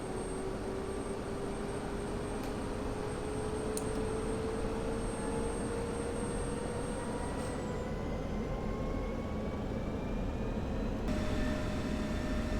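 An F-16C jet engine in DCS spools from cutoff up to idle, a steady rising whine with a low roar beneath, building gradually and evenly throughout.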